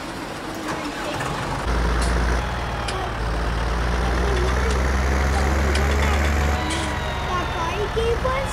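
An old farm tractor's engine idles with a steady, heavy low rumble that holds throughout, while people talk over it.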